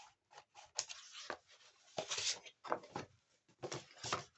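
Several crisp snipping cuts in quick irregular bursts, large heavy scissors slicing through cardboard, close up with short pauses between cuts.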